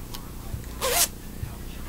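A zipper on top of a handmade sewn fabric pouch is pulled once in a quick, short zip, close and fairly soft over quiet room tone.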